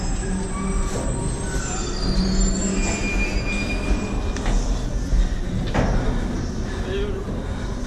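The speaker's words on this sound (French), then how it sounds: "C'est le métro, frère." A Paris metro train rumbles past nearby inside a tunnel under the Canal Saint-Martin, its wheels squealing loudly and continuously over a heavy rolling roar.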